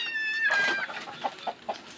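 Chickens clucking on a farm, several short close clucks in an uneven rhythm after a brief high squeak at the start, no talk.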